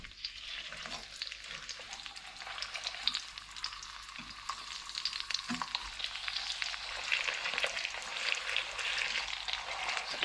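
Horse mackerel fry in a hot pan with a steady, close sizzle and crackle that builds over time, punctuated by occasional soft taps and scrapes as the fish are pressed flat.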